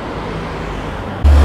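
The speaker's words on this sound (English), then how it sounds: "There is a bit of traffic going past" Road traffic passing through the seaside town of Shanklin on the Isle of Wight, a steady low rumble of vehicles nearby, swelling louder and closer in the final moment.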